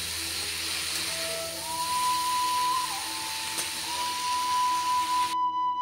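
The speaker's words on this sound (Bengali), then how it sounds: "আর পোস্তটা বেটে দেবো।" Poppy seeds being ground into paste, heard as a steady motor whine with a sustained tone that shifts slightly in pitch, running loud and close before cutting off abruptly near the end.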